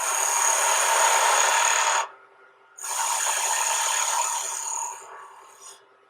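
A woodturning tool cuts a wooden tenon on a spinning lathe, a harsh, loud scraping hiss in two long passes separated by a short pause, the second tapering off.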